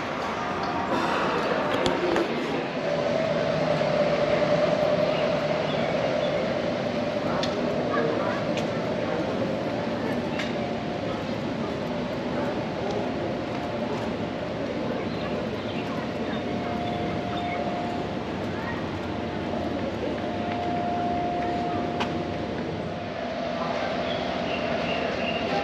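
Steady rumble and rattle inside a moving night train travelling to Uzbekistan, a continuous close interior drone with faint squeals, occasional clanks, and background voices throughout.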